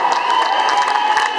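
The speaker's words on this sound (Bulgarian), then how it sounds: "Аплодисменти за тия хора, ощетени са от телевизия." Audience applauding a live stand-up comedy performance in Mall Varna shopping centre; dense, loud, continuous clapping with crowd noise throughout.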